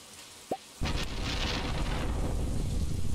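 A thunderstorm in the Stardew Valley video game: rain bursts in as a dense, steady rushing hiss and keeps going. A faint rumble of thunder sits under the rain, and a brief game blip comes just before the rain starts.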